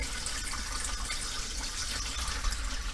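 Water poured into the top chamber of a gravity water filter, a steady broadband splashing rush that runs continuously and fairly close, with no voices over it.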